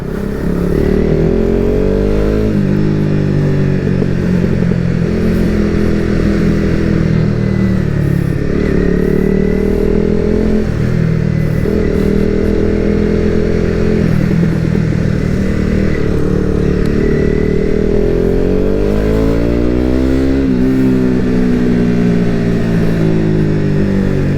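A Honda CBR300 motorcycle rides through Bangkok city traffic, its engine loud and close throughout, rising and falling as it accelerates and shifts gears, with traffic noise around it.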